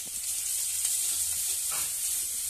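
Chopped ginger hitting hot oil over a dried-red-chilli tempering for a Bengali vegetarian soyabean curry, a steady close hiss of frying with a brief bubbling burst near the end.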